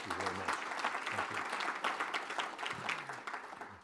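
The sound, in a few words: audience applauding the Director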